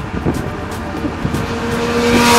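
A Triumph Street Triple RS motorcycle engine revs hard past 7,000 rpm, its pitch climbing steadily and growing louder toward the end as it gathers speed.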